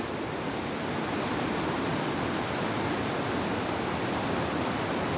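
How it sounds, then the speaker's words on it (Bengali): A waterfall near Cherrapunji in Meghalaya, India, pours in the rain, a dense, steady roar of rushing water and rainfall that holds unbroken and loud throughout, with no voices. "এই ঝর্ণা দেখার জন্য অনেক পর্যটন পর্যটক আসে বোঝা যাচ্ছে বৃষ্টি হচ্ছে"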